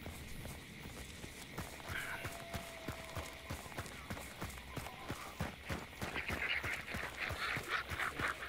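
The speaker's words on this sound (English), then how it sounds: "I wasn't even nowhere near those ducks, and yet they still get scared." Startled ducks in a video game let out quacks over a steady run of clopping hoofbeats or footsteps, the quacking growing busier and more excited toward the end.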